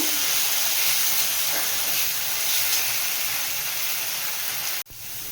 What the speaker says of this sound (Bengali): এরপর আমি সয়াবিনের পেস্টটা এর মধ্যে দিয়ে দেব এটা দিয়েও ভেজে নেব একটু